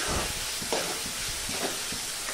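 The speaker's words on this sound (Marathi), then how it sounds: "हे बघा, हे छान मस्तपैकी छान मऊ होईपर्यंत परतायचं" Onion and tomato sauté in a pan with a loud, dense, continuous sizzle heard up close, with a few soft stirring scrapes and no voices.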